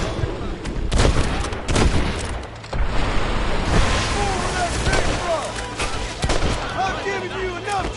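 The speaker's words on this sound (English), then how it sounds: "They're shooting down on us!" Gunfire from enemies shooting down from the top of a cliff in Red Dead Redemption, with sharp shots and bursts repeating over a steady outdoor wash. Voices are heard under the shooting.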